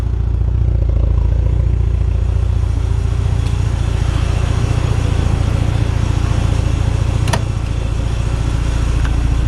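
Car engine idling just under 900 RPM, a steady low rumble with even pulsing, close and fairly loud, with one brief sharp click partway through and no talk.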